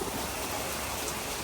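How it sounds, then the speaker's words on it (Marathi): Heavy monsoon rain pours down steadily outdoors, a dense, continuous hiss of falling water close to the microphone with no talking. "आता मस्त पाऊस येतोय"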